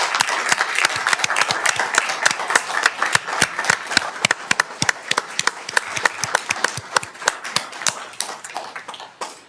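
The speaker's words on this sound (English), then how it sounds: "I would like to give a round of applause to each and every one of you" Applause from the audience at a Daly City city council special meeting, a dense patter of claps sustained throughout and close, staying steady before thinning slightly at the end, with no talking.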